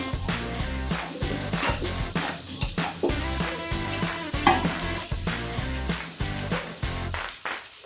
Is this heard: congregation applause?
no